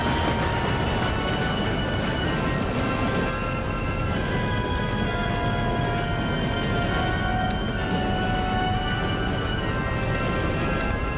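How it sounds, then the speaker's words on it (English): A train rolling past in Red Dead Redemption 2, a steady loud rumble with wheel and rail noise and faint squeals running continuously for the whole stretch. "Hopefully the train's going to stop."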